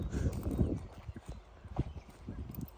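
A working mare pulling a cart clops along with her hooves in an uneven rhythm, moderately close, louder at first and then thinning to a few scattered strikes.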